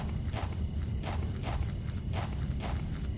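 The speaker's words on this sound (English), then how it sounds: "I hear footsteps." Footsteps in the Silent Hill 4 video game tread at an even, unhurried pace, about five distinct steps. A constant high insect-like ringing drone sits behind them, with no talking.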